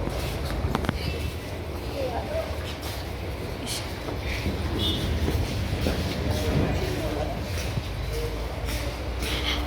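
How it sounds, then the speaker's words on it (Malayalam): An Ernakulam passenger train rumbles at a railway station with a steady low mechanical drone, faint clanks, and people talking in the background. "അത് 8:50 ട്രെയിനാണ്. അല്ല, എറണാകുളം പാസഞ്ചർ."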